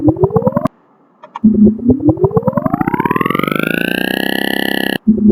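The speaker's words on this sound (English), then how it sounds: "Now let's put an alien sound because here you can see an alien." Cartoon alien sound effect from a children's coding app: warbling, pulsing electronic tones that rise in a long sweep and then cut off, loud and alone.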